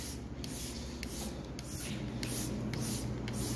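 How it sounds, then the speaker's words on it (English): Detailer Special cleaner misted from a spray bottle onto a ZL440 snowmobile, with a series of short, soft spray bursts at a fairly regular rhythm over a quiet background hiss. "I'm going to spray the whole thing in it"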